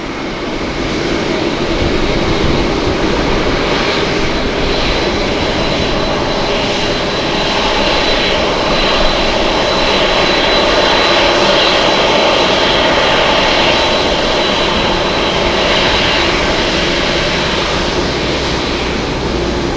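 A Nippon Cargo jet in special 40th-anniversary livery taxis to cargo parking at LAX, its engines producing a loud, close, continuous roar and whine that holds steady throughout with no talk.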